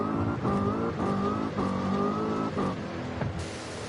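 Race car engine in Forza Horizon 5 revving hard through repeated gear changes, a bright buzzing drone climbing and dropping in steps before easing off, with no voices.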